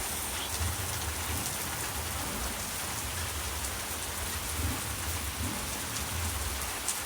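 Heavy rain pours down steadily, a dense, continuous hiss of drops hitting surfaces nearby with low rumbling undertones and no speech.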